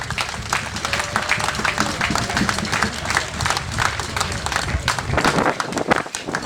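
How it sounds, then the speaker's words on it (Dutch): Audience at the ZLF2023 opening in Schimmert applauding Rob Spierings, a dense sustained burst of many hands clapping, loud and close, with faint crowd voices mixed in. "applaus voor Rob Spierings"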